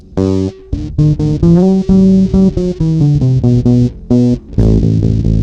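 Heavily distorted bass guitar riff, loud and gritty, with a run of choppy notes and short gaps between phrases.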